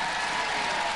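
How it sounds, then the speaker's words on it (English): Studio audience applauds on the Robot Wars set, a dense, even burst of clapping that fills the whole brief moment. "Ladies and gentlemen, a round of applause, Dominator 2!"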